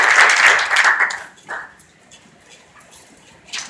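Brief applause from a church congregation at a Spanish-language service, a short burst that quickly dies away into a quiet room with faint scattered sounds and a small rise at the very end.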